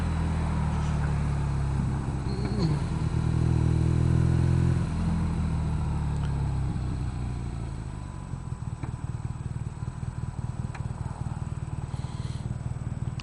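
A 2016 BMW R nineT motorcycle rides along and turns left, its engine rumbling loud and close with a swell of revving early on, then settling into a steady lower drone with wind noise.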